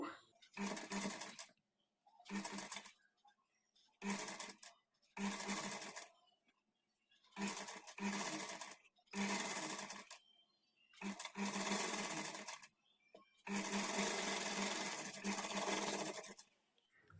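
An electric sewing machine stitches blouse sleeves onto the body in about eight loud, whirring bursts of rapid needle strokes, each burst lasting one to three seconds and separated by short quiet pauses, with the last run the longest.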